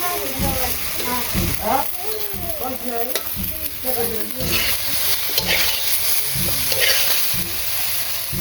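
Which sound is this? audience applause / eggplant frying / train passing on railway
eggplant frying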